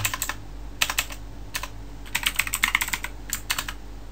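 Typing on a computer keyboard while working in RStudio: short bursts of quick, close key clicks separated by brief pauses, with no voices.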